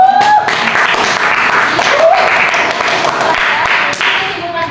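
Students in a classroom clap together after a maths lesson point, a dense loud burst that thins slightly toward the end, with a voice briefly heard over it.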